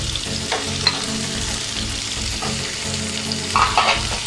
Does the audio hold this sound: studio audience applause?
no